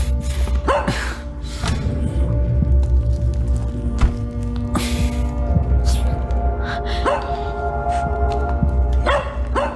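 A small dog yelps and barks in short bursts over a constant mechanical hum, with creaking sounds scattered throughout.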